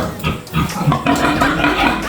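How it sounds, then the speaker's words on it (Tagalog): Large pigs on a farm give off repeated low grunts and snorts at close range, overlapping in an uneven rhythm. "Ang lalaki ng baboy, guys"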